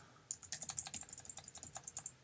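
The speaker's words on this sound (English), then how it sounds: "Pardon my raucous noise with my keyboard here." Rapid, close-up clicking of fingers typing on a computer keyboard, a quick irregular patter of keystrokes with no voices.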